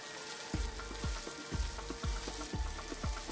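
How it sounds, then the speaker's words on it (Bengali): Potato and taro strips fry in a pan with a steady close sizzle, punctuated by about six low thumps spaced roughly half a second apart, with no one speaking. "এটাকে কিছুক্ষণ ভাজা করে নেব আমি।"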